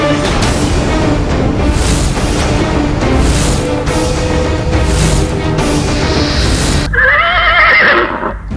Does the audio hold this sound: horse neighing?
yes